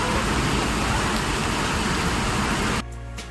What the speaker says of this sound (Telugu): చూడండి వర్షం ఎంతగా ఉంది.